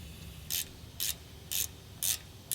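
A ratchet and socket work bolts on a 2017-2019 Ford F250 Super Duty during a leveling kit install, giving five evenly spaced, sharp clicking bursts about half a second apart, close and alone.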